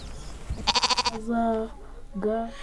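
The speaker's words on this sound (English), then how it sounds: "She has already bought 5 sheep with the money she saved." Several sheep bleating, bought as family livestock in rural Rwanda: a quivering, rapidly pulsed bleat is followed by two longer, steady bleats, clear and fairly close with little else around.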